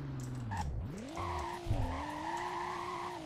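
A BMW M4 drifting in the Roblox video game, with synthetic tire skid squeals and a revving engine tone that dips and climbs, short and fairly quiet.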